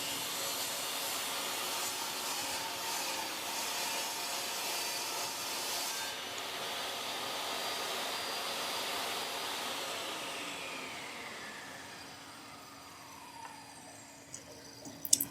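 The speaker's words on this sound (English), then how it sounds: "we'll take it to the miter saw" Miter saw cutting wood for a birdhouse, a loud steady motor whine with cutting noise that winds down and fades toward the end, followed by a few light clicks.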